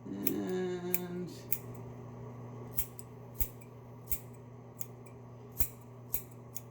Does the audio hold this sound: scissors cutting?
yes